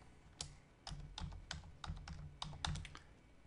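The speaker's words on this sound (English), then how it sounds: "So we go up here and we type in" Rapid, uneven keystrokes on a computer keyboard as a search is typed in, close and crisp, with short pauses between bursts of clicks.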